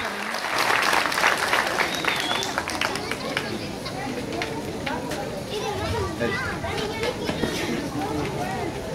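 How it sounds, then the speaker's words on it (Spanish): An audience at a political campaign event applauds to welcome a substitute candidate, steady clapping mixed with crowd chatter while a voice speaks over the noise. "esos aplausos para recibir al suplente"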